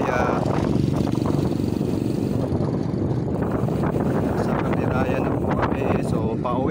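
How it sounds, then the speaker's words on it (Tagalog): Strong wind at Caliraya Lake in Lumban, Laguna buffets the microphone with a constant low roar, while a person talks over it outdoors. "Lakas ng hangin dito."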